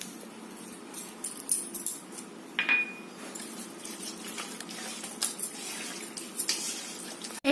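A metal utensil stirs and scrapes batter in a bowl for a steamed dish cooked in a pressure cooker, producing faint, close, irregular clinks and soft scraping with no talk.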